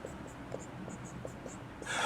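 A pen writes notes on paper with a series of light, quick scratching strokes, close and quiet, ending in a brief louder rustle.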